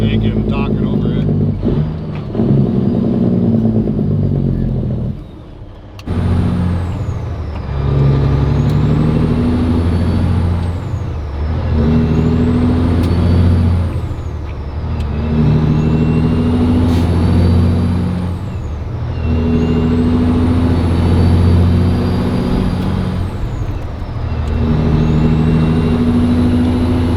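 A Cat 3406E diesel truck engine fitted with mufflers in place of straight pipes, a deep loud idle rumble that rises and falls in repeated slow revs, with a brief dip early on and no talking.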